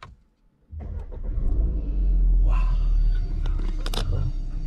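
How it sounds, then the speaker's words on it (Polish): A new DS car's engine starts after a brief quiet moment, cranking into a deep, loud idle rumble that holds steady with some faint clicks and cabin sounds close by. "ja mam zawsze problem, gdzie się odpala samochody."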